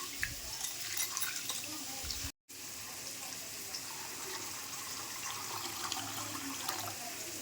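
Soaked chana dal being washed in water, a steady close sloshing and swirling of water and lentils, fairly quiet, with a brief break partway through and no talking.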